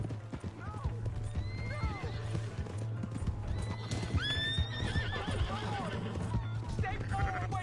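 Red Dead Redemption 2 gameplay with a horse's hooves clip-clopping steadily as it gallops, several shrill neighs and whinnies rising above, under a constant low hum and game sounds, with voices talking in between.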